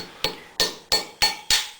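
Five sharp, evenly spaced blows cracking heartnut shells, struck on the tip, each a bright hard knock with a short ringing decay, close and loud with no talk.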